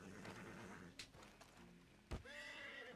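Horse in the video game Red Dead Redemption 2 neighing after being kicked, a loud whinny near the end following a sharp thump, with hoof clops and game ambience.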